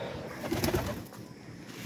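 Soft, low cooing from a Badshah pigeon sitting on eggs rises briefly in the middle, a short throaty burst close by against a quiet background hum.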